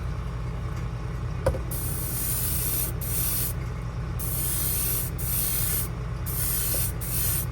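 Airbrush spraying paint onto a Chimera shad fishing lure: repeated bursts of fine, close hissing spray, each lasting a second or so, over a low steady background rumble.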